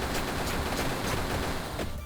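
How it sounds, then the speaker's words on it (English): An explosion effect in the video game Vampire Survivors, a dense, sustained burst of crackling, popping blasts that fills the whole clip at steady loudness before thinning out at the very end, with no talk over it. "that explosion though, I was not expecting that."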